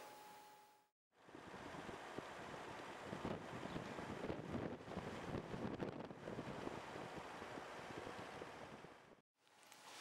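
Steady wind gusts roar and buffet the microphone for several seconds, a continuous rushing noise with no voices.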